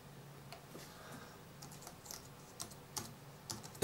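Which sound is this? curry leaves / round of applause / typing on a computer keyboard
typing on a computer keyboard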